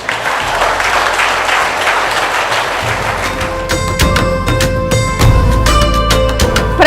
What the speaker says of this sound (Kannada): ನೀವೇ ಚಪ್ಪಾಳೆ ತಟ್ಕೊಡಿ